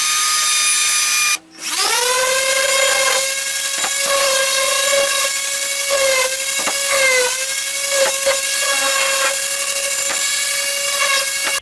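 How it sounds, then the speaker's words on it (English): A power drill whirs loudly at a high, steady pitch, drilling a small hole in a wooden paddle, briefly stopping and restarting early on, then running continuously with slight speed wobbles. "Now here, I'm just drilling a small hole."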